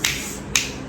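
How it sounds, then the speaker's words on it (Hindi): Two crisp finger snaps about half a second apart, close and alone, with no one talking. "चुटकी ये बजाऊँ और मेरा काम हो जाए"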